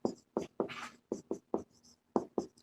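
Chalk tapping and scraping on a classroom board during a biology lesson on earthworms, a series of short, distinct strokes in an uneven rhythm, close and clear with no talking.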